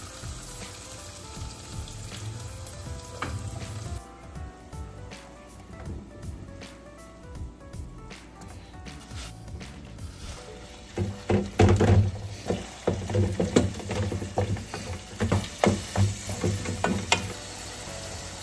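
Onions sautéing in a pan, a quiet sizzle with scattered stirring clatters that grow louder and busier toward the end.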